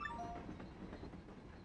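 A train running in the Paper Mario: The Thousand-Year Door video game, a low steady rumble with rhythmic clattering and a brief tonal chime at the start, short and fairly quiet.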